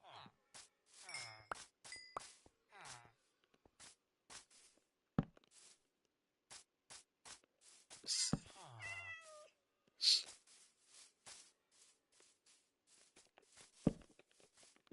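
Minecraft cat meowing in short, distinct calls scattered across the stretch, mixed with game footsteps, small clicks and other brief in-game sounds, with quiet gaps between them.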